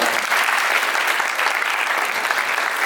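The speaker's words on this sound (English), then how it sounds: "round of applause for Mr. Shibukawa" Audience applause for Mr. Shibukawa, the high school principal, at a welcome gathering with a Singapore school choir. Steady, dense clapping from many hands fills the whole stretch at an even level.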